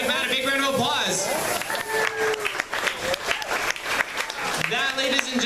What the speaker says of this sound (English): Let's give Matt a big round of applause.